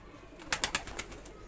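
A few soft, breathy coos from a pigeon, close by and fairly quiet, rising and fading over a faint background.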